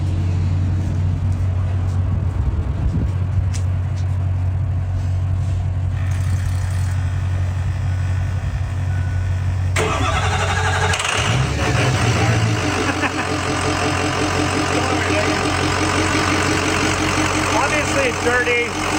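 A dirty, hard-used diesel truck engine cranks and catches, then settles into a loud, steady idle with a rumbling low drone, a sharp rise in noise as it fires.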